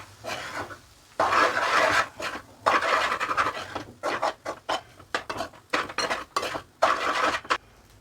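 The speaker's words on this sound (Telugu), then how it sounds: "ఇదంతా కలిసే విధంగా కలుపుతున్నాం బాగా." Lemon rice (pulihora) stirred in a pan with a metal spoon, giving bursts of scraping and rasping against the pan in an irregular rhythm, close and moderately quiet, with short pauses between strokes.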